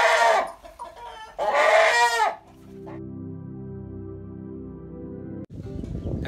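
Free-range country chickens and roosters at a village farm in Tamil Nadu, loud clucking and squawking calls in two close bursts, then a sustained harmonic crowing-like call and further clucking toward the end.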